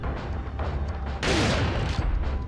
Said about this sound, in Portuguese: Eu dou outro tiro nele.